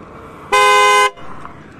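A loud aftermarket trumpet horn fitted to a Suzuki Access 125 scooter blares once, a single strident half-second blast of bright harmonic tone that cuts off sharply against quiet background noise.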